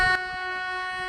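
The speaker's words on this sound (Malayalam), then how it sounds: "ഈ ട്രെയിൻ കൂനൂരിൽ നിന്ന് ഉദകമണ്ഡലത്തിലോട്ട് വന്നുകൊണ്ടിരിക്കുന്ന ട്രെയിനാണ്" The Nilgiri mountain train from Coonoor arrives at Udhagamandalam station, sounding a sustained, tonal horn blast close by, with a short thump at the very start.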